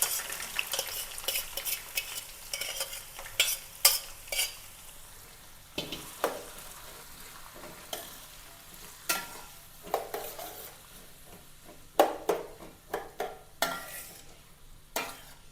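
Onion, green chili and ginger sauté in a pan, a soft sizzle under repeated sharp clinks and scrapes of a spoon stirring against the metal, in irregular bursts with no talking.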